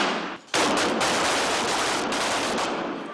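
A sustained burst of rapid automatic gunfire during military training, loud and close, rattles on continuously for several seconds after a brief quiet moment.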